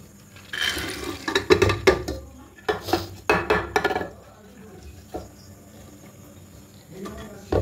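Soaked, washed chana dal tipped into a metal pressure cooker gives a run of clattering, scraping knocks and a splash of water in bursts, and someone speaks between the sounds.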